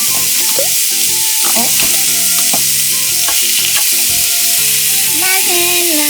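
Thin-sliced pork belly sizzles loudly and continuously in a hot pan, a dense crackling fry with occasional scraping and stirring sounds close by.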